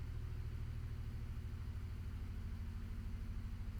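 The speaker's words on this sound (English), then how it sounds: "God damn, it's like an enormous lorry outside. You are killing the atmosphere! Will you please shut off your motor?" The engine of a large lorry idles outside with a continuous low, throbbing rumble, even and fairly faint, with no voices over it.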